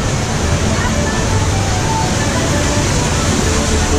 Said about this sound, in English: Round into the waterfalls.